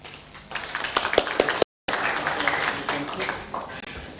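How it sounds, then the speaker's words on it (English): An audience at a summer school closing ceremony claps in a sustained burst of applause, fairly close, with a brief dropout midway before the clapping continues. "Let's clap for Johnson."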